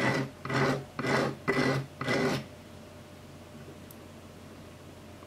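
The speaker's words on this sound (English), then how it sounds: "It's pretty much just like sanding it just a little bit so that it's flat." Sandpaper rubs a fishing rod part flat in about five steady back-and-forth rasping strokes, close and fairly loud, followed by near silence.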